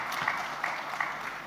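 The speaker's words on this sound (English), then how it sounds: "So that's Lanka, and I think now she deserves an applause, and Bundan too." A short burst of steady applause from a conference summit audience, dense overlapping claps with a few sharper hits standing out.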